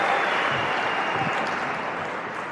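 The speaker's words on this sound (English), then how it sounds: "I'm always wary of the standing ovation before I speak" An audience gives a standing ovation at a talk by Bishop Barron on living as the image of God, with loud sustained applause throughout that fades slightly toward the end.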